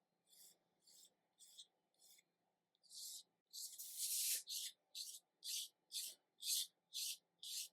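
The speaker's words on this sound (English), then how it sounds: "So we're going to keep on scraping this" A scraper is drawn in repeated short strokes along the grain of a wooden rifle stock from a JK Hawken kit, about a dozen close, crisp rasping passes in a steady rhythm, one longer and louder than the rest.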